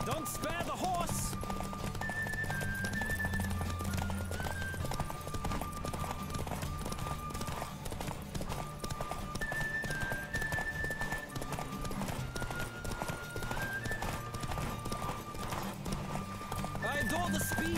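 Rhythmic clip-clop of a galloping horse in The Witcher 3: Wild Hunt runs steadily throughout, mixed with game music and a busy background, fairly loud and continuous.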